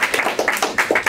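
Short burst of audience applause for the mayor's wife at a supporters' event, a quick run of close, distinct hand claps.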